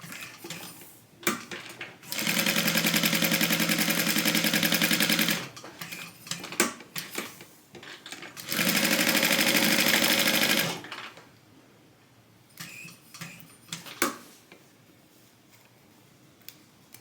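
A sewing machine stitches a tote bag in two loud, even bursts of fast needle chatter, each about three seconds long, separated by clicks and handling noises, then quieter fumbling after the thread snags under the presser foot.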